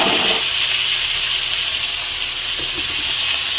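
Onions fry in oil already used for frying chicken for a yogurt chicken dish, giving a loud, steady, close sizzling hiss throughout with no talking.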